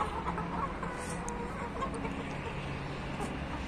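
Chickens cluck softly and intermittently in the distance over a steady outdoor background rumble.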